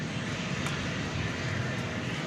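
Steady broadband jet roar of an MD-11 aircraft at DFW Airport, continuous and fairly even throughout, with no voices.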